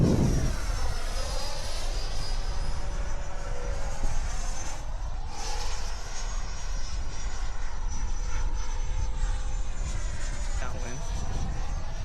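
Model F-16 jet with an 8S power setup taking off at a flying field in high winds, its engine whine rising and shifting steadily as it climbs away, with wind buffeting and people talking nearby.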